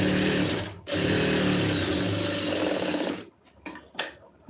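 A sewing machine stitches a blouse lining piece in a loud, close, continuous whir, with a brief pause near the start, then stops and gives way to a few short clicks and handling noises.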